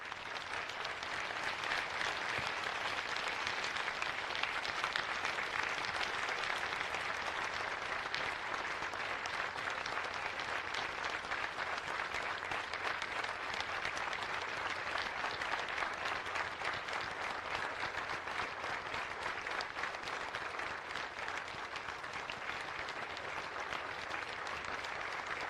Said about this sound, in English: A grateful nation applauds you today.